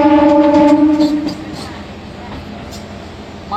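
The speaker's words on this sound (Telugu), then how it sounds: "మన ట్రైన్ వచ్చేసి అనపర్తి అయితే వచ్చేసిందండి" Passenger train arriving at Anaparthi railway station, a loud horn-like tone at the start fading into a steady rolling rumble with light clatter.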